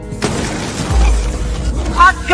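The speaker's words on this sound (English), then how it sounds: "A fiery explosion erupts from the wreckage." A fiery explosion bursts from wreckage in a thriller film scene, a sudden loud deep boom that rumbles on low and heavy with a crackle before a voice speaks briefly at the end.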